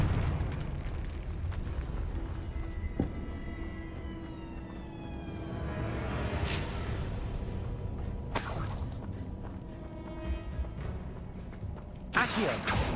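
Confringo spell explosions and other spell effects in Hogwarts Legacy, with a dense rumbling game soundscape and sharp bright bursts of blast noise near the middle, at about nine seconds and again near the end.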